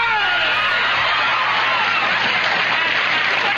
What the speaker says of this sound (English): Listen to that crowd, just like hysterical.